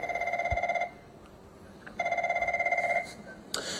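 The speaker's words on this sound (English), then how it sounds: "here's my phone's ringing" A telephone rings loudly in two long warbling bursts separated by a pause, with a third ring just starting at the end, in a quiet room.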